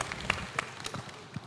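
Scattered audience clapping at a cooperative bank's annual general meeting, a brief sparse patter of hand claps in a room.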